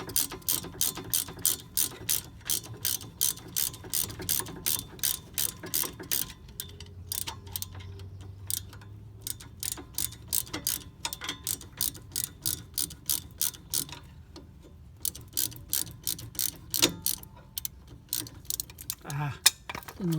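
A hand ratchet clicks in long rapid bursts while loosening a brake caliper bolt on a 2005 Ford Escape Hybrid, with short pauses between strokes and faint low background noise.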